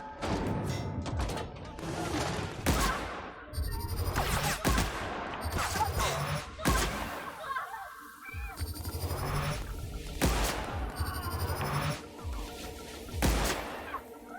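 Rapid bursts of weapon fire from a gun in the video game The Outer Worlds, loud and repeated in several clusters across the clip, with busy game sound effects between the volleys.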